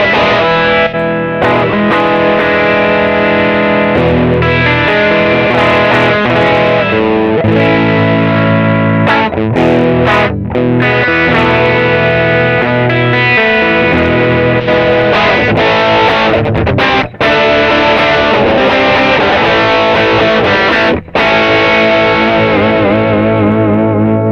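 Heavily distorted electric guitar, an Ibanez Jemini signature, playing continuously and loudly, with thick sustained chords and short riffs, no voices.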